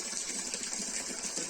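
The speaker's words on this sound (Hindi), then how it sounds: "ये पानी जो है ऊपर पेड़ों से आ रहा है" Water flowing down from the mountains gushes steadily nearby, a continuous bright rushing stream with no pauses.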